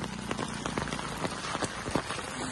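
Steady rain falls on surfaces outdoors, a dense even patter of drops with scattered louder splashes, heard alone at moderate level with no voices.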